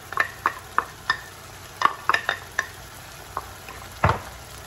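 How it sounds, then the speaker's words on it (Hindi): Freshly crushed ginger and garlic fry for mutton karahi, with a steady low sizzle broken by irregular sharp clinks and scrapes of stirring in the pan, close and moderately loud. "मैं इसके अंदर ऐड कर दूंगी ताज़ा कुटा हुआ अदरक लहसुन"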